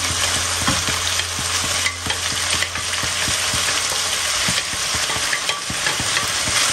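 Egg stirred and fried in a pan for Thai-style fried rice, a continuous close sizzle with a spatula tapping and scraping at a quick, uneven rhythm throughout.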